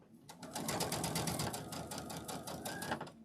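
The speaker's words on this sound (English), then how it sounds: "Lining up my point, and I'm gonna sew point to point," Sewing machine stitches point to point across a fabric door banner, a close, steady rapid needle clatter that starts abruptly and runs evenly through the clip.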